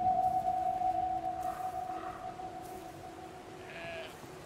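A sheep bleats in a long, wavering call that fades off, then gives a couple of shorter bleats, fairly close and loud against quiet background noise.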